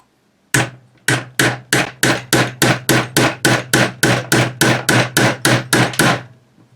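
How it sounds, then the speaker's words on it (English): Steady series of sharp metallic hammer strikes on a punch drifting out a pin on a Type 81 rifle, about fifteen evenly spaced blows, close and loud, with a faint low hum underneath. "now you take a punch and a hammer and drift out this pin"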